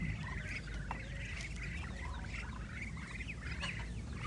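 Hens, including a mother hen, cluck in short bursts over a steady farmyard murmur, with scattered bird calls mixed in throughout.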